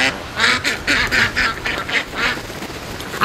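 Ducks quack repeatedly near a swamp, a flurry of loud overlapping calls in uneven bursts that taper off toward the end, close by and with no talking.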